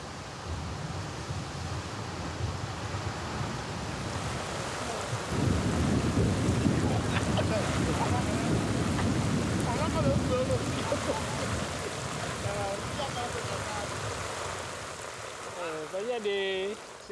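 A tropical rainy-season thunderstorm in the Bissagos Islands: steady hissing rain under low, rolling thunder that swells louder midway, with a few faint higher sounds near the end.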